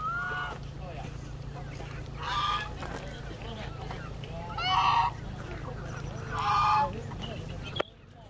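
Four loud honking calls from poultry come in separate bursts, roughly every two seconds, over a steady low background hum.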